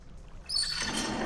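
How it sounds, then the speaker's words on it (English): Water rushes in a Pillars of Eternity game, a soft hiss that swells suddenly halfway through into a steady, fairly quiet flowing wash after a near-silent start. "You hear a grinding noise beneath your feet and the rush of water"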